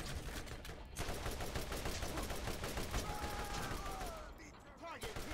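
The Meat Grinder weapon in the Borderlands video game fires long, rapid bursts of gunfire, a dense continuous rattle that fills most of the stretch, with short whooshing game effects near the end.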